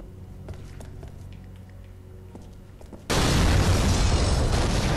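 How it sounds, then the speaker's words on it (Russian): In James Bond 007: Agent Under Fire, a quiet stretch is suddenly broken by a loud, sharp blast blowing a wall apart, becoming a sustained roaring rumble of debris. "Тупо стену разорвало."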